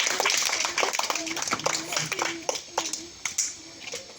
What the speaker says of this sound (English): Clap, children.